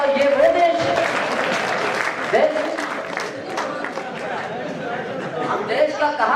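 Audience clapping at a Hindi comic poetry recital, a dense sustained burst of applause mixed with crowd chatter and scattered laughter, with voices rising through it at moments.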